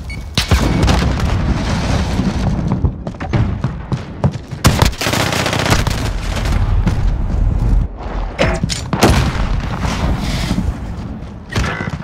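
A grenade blast and rapid gunfire from Call of Duty Modern Warfare, playing as loud bursts and crackling volleys with booming hits through a hardpoint match, one big blast near the middle.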